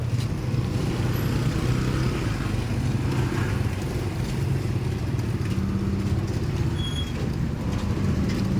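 Motorcycle engines idling and revving near a parked truck, a steady low rumble with a continuous drone throughout and no clear speech over it.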